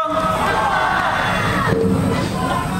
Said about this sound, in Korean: 지금 가족들끼리만 8번을 외치고 있는 거죠